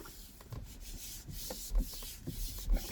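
Close rubbing over a leather BMW steering wheel during refurbishment, a soft scuffing friction in uneven strokes with a couple of heavier thumps, quiet and without talk.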